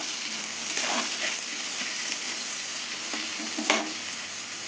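Eggplant pieces frying in hot oil with turmeric and salt, giving a steady, close, dense sizzle with occasional stirring scrapes throughout.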